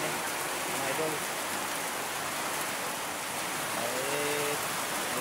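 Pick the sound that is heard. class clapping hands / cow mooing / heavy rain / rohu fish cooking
heavy rain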